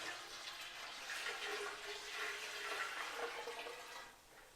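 Water pouring through a Berkey gravity water filter during a red dye test, a steady hissing trickle that is fairly faint and continuous for several seconds before easing off slightly, with no voices.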